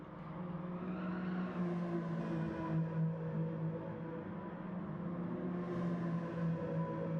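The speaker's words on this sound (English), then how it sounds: "let me know whether you can hear me over the cars, whether the cars are too loud" Saloon racing cars lapping the Brands Hatch GP circuit during a Kirkistown Motorsport NI Saloons round, engines droning steadily and loudly throughout with pitch rising and falling as cars pass.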